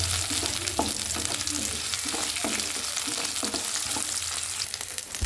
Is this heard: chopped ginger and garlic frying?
yes